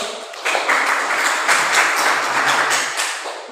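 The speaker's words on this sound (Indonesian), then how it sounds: "Tepuk tangan dulu" Brief round of classroom applause from students after a group presentation, steady close clapping lasting a few seconds before fading.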